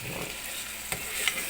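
Prawn curry frying in a pan with turmeric and salt, stirred steadily, giving a soft continuous sizzle with a couple of sharp scraping knocks near the end.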